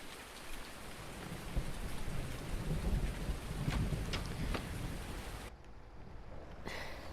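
Steady rain patters on a surface around a farm shop, with a soft, constant hiss and some heavier low rumbling before it suddenly drops away near the end.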